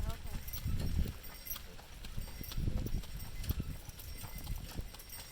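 A horse's hooves clop steadily along an outdoor trail in an uneven walking rhythm, close by, while a rider talks over the footfalls.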